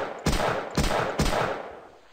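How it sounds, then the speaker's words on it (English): Three loud, heavy bursts of gunfire ring out in quick succession in the video game Caravaneer, each followed by a fading roar. "now I wasn't expecting to survive that many gunshots"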